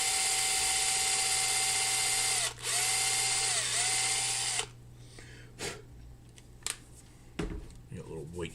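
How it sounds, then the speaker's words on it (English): A power drill bores out a snapped-off pin, whining steadily and close for several seconds with a brief dip, then stopping; scattered handling clatter follows. "now we got to drill out that freaking pin that just snapped off"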